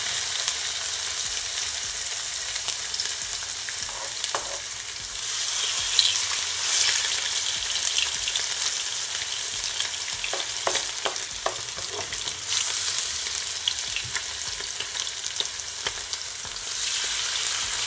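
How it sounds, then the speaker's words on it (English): Salmon sizzles steadily in a hot pan with garlic, a continuous bright crackle and hiss running alone for the whole stretch, with a few soft stirring knocks in the middle. "now I'm gonna add my salmon, like so"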